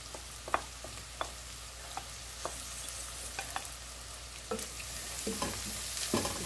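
Carrot, white onion and garlic frying in a pan, a low steady sizzle with frequent scraping stirs and occasional spoon taps, heard close and alone.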